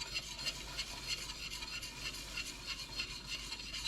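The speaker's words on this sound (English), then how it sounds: "Stir constantly" A spoon scrapes and stirs grits in a pot on the stove, a continuous soft rasping with a steady back-and-forth rhythm, close and quiet, with no talking.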